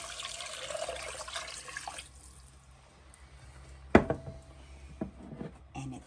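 Six cups of water pour briefly into a pot of fish stew, then a single sharp clunk and a few quieter kitchen knocks follow in a quiet room.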